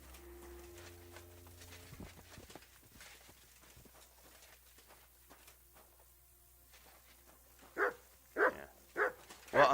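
Mutt the dog barking in Kingdom Come: Deliverance II, four loud barks in quick succession near the end, after a long stretch of quiet footsteps and faint ambient noise.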